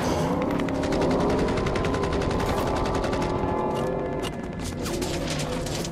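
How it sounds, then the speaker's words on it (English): Sustained gunfire in a Vietnam War setting, with sniper fire from the shoreline answered by bursts of automatic weapons. Rapid, dense volleys crackle loudly and continuously through the whole stretch, with no talking. "taking sniper fire from the shoreline"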